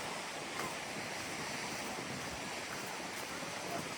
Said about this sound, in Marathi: खतरनाक लाटा तयार होतं तिथं.